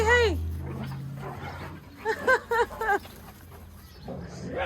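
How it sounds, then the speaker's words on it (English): Dogs playing roughly, with whines, yips and a run of several sharp close barks in quick succession, then softer whimpers fading out. "the dogs having a good old play right now. Sounds aggressive, but it's not."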